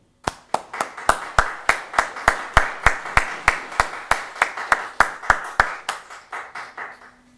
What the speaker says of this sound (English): we'll give him a round of applause as well